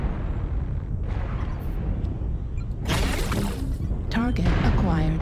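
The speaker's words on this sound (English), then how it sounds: "Target acquired. Artillery strike." An artillery strike in MechWarrior Online lands as rumbling low booms followed by sharp bursts of impacts and crackling blasts, loud and close, with game radio chatter mixed in.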